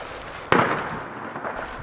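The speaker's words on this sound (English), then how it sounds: "Whoa, I heard gunshots." A single sharp gunshot cracks once at mid-distance, followed by a short rumbling tail against a low background hiss.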